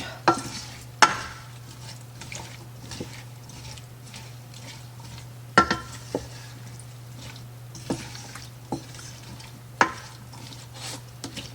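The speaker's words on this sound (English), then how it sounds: "Now, as these vegetables start sauteing, him breaking down, it's going to let off some more juice, especially the onions and the celery." Onions and celery sauteing in a pot for clam chowder give a low, steady sizzle, broken every few seconds by sharp spoon scrapes and knocks as the vegetables are stirred. No one speaks.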